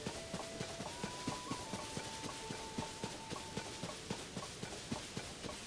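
Horse hooves clip-clopping in a video game, a quick, even rhythm of soft thuds repeating steadily at moderate volume under a sustained musical tone.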